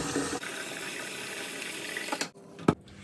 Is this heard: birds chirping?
no